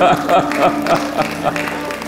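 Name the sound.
audience applause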